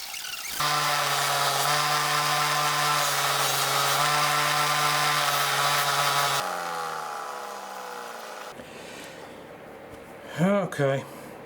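A power sander grinds cured super glue on a homemade micarta handle of a coffin-shaped friction folder knife: a steady loud tonal whine for several seconds, then winding down, followed by quieter handling noises and a couple of bumps.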